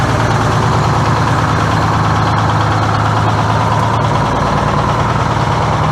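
A Detroit 6-71 diesel idles in an International truck, a loud, steady, rough rumble with a constant throbbing knock that runs unbroken throughout and carries no voices.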